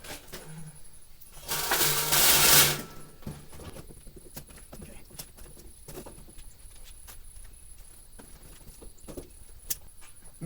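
Heavily taped cardboard box holding a Hyper Tough 20V cordless hedge trimmer being opened: a loud tearing rip of tape, then scattered crinkles, taps and cardboard rustles close by, with no voices.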